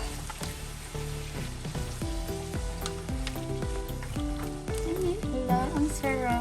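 Marinade poured over honey mustard pork ribs sizzles loudly in a hot pan, a dense continuous crackle with bright popping bursts and stirring clatter close by.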